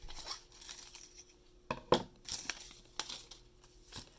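Scissors snip through paper story problems in short, quiet crinkly bursts, with a sharper cutting crunch midway and scattered rustles, close and faint.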